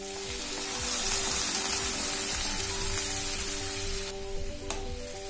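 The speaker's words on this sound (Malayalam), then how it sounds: "ഇനി ഇതിലേക്ക് നമുക്ക് ആവശ്യത്തിനുള്ള വെള്ളം ഒഴിച്ച് കൊടുക്കാം ചൂടുവെള്ളം ഒഴിച്ചാൽ മതി" Hot water goes into sizzling soya chunks curry in a pan, giving a loud, continuous hiss and bubbling roar that gradually settles.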